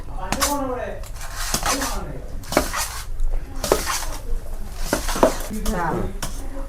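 Spoon and plate clatter as curd rice with salt is stirred and served onto plates in a home kitchen, with several close clinks and scrapes under a speaking voice.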